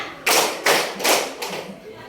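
A school class claps a counting rhythm together, producing four sharp group claps spaced evenly about a third of a second apart in a room, with faint background murmur.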